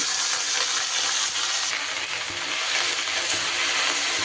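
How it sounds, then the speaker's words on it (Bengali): Amaranth (note) greens, cut and washed, frying in oil with onion, a steady close sizzle with a louder burst of hissing as the greens hit the pan, continuing throughout without talk. "এইবার কেটে ধুয়ে রাখা শাকগুলো দিয়ে দেব"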